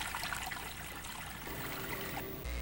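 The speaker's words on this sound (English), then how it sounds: "Cohos Brook tumbles through increasingly high banks toward the Merrimack River" Cohos Brook tumbles over its bed toward the Merrimack River, a faint, steady trickling and splashing of moving water with no voices, ending in a brief low thump.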